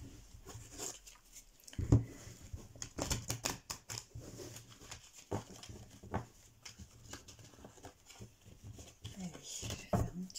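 Tarot cards being shuffled by hand, giving soft, irregular papery riffles and flicks, close and fairly quiet, with short bursts spread across the stretch and a few louder taps.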